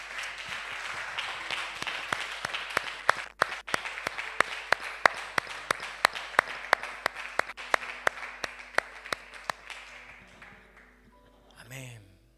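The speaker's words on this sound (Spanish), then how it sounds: "¿Por qué no le damos un aplauso fuerte al Señor?" A church congregation applauding, rhythmic claps building into sustained clapping that fades toward the end, with voices faintly underneath.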